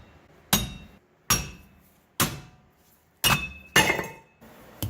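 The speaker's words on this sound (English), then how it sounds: "you're gonna want to give this a small little tap with a hammer" A hammer strikes the rear wheel hub of a 2005–2010 Honda Odyssey EX-L five times, each a sharp metallic clink with short ringing, spaced about a second apart, close by with no talking.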